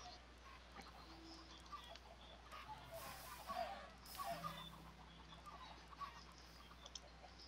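Faint clucking of chickens in a crowded block-building video game, scattered soft calls over a low steady hum, fairly distant and quiet.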